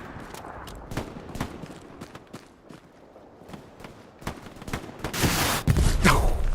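Gunfire in the World War II shooter Hell Let Loose on Omaha Beach, sharp scattered shots cracking at irregular intervals, some distant and some close, building into a louder burst of firing near the end.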